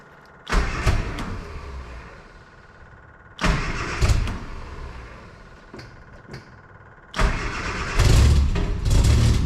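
A 1968 Austin America engine being started with the choke out: three separate bursts of cranking and sputtering, the last one catching and carrying on into a rough running idle, heard up close.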